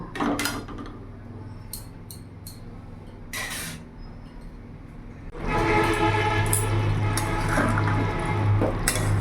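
Potatoes boil in a pot for aloo dum with peas, giving a steady low bubbling rumble with a few clinks early on that swells louder and denser after the midpoint, continuing without speech.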